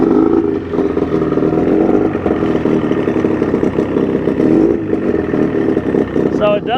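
A 1990 Johnson 25hp outboard motor runs steadily just after starting, a loud, continuous close-up engine drone with a slightly uneven throb, no talk over it.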